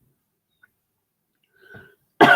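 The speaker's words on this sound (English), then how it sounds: "Those peanuts are making me cough." A single short cough, brought on by eating peanuts, bursts out at the very end after near silence, preceded by a faint throat noise.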